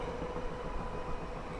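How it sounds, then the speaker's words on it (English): A Class 421 electric train on the Portsmouth Direct Line rumbles steadily across a small bridge. The wheel and track roar is dense and even, with no voices. "Train on a rather small bridge."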